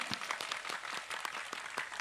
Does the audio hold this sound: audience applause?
yes